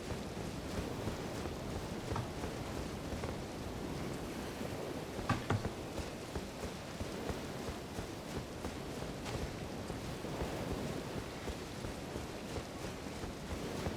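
Ocean surf and falling rain in the Elden Ring video game blend into a steady, dense wash of noise, broad and continuous with no distinct wave crashes standing out and no voices.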